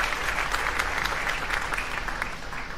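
Soft, steady clapping from a small group during a ceramic flower-painting session, continuous and fairly quiet, with no talk over it.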